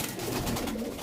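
Rajasthani pigeons in a loft give a soft, continuous low cooing, several birds murmuring together at close range with no talk.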